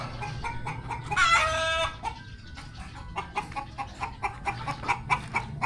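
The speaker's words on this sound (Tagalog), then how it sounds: "Ito na, hahapon na yung ating mga manok." Chickens cluck in short repeated bursts near a rural home at dusk, with one longer crowing or squawking call early on and scattered clucks continuing after it.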